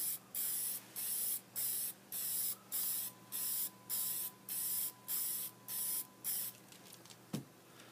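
Aerosol pigment toner sprayed onto a surface in a quick series of about ten close, rhythmic hissing bursts, then a pause and a small knock at the end.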